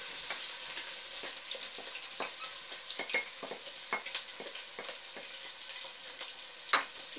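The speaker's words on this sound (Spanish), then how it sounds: "Una vez que esté caliente, añadiremos los ajos que hemos pelado en rodajitas." Sliced garlic and onion fry steadily in hot oil in a pot, a continuous sizzle with scattered crackles and pops and occasional stirring scrapes, close and fairly quiet with no talking.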